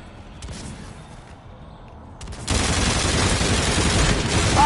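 Gunfire in Call of Duty: Infinite Warfare starts faintly, then bursts into a loud, sustained barrage of rapid automatic shots that continues without break to the end.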